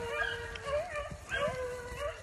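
A beagle pack bays and yips in a rabbit chase on a cool fall morning, with overlapping howling cries carrying steadily from a moderate distance, and someone talks briefly.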